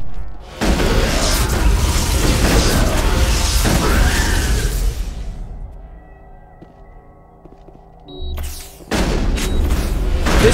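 Heavy booming shotgun blasts in the Mass Effect video game, loud and close, forming a dense barrage of explosive bursts that fades away before one more burst near the end.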